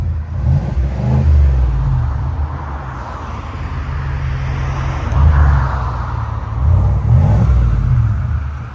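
A 2023 Cadillac Escalade 600 with a 6.2L V8 and Borla S-Type muffler-only exhaust, resonators still fitted, revs in loud deep bursts that rise and fall three times over a steady rumbling idle.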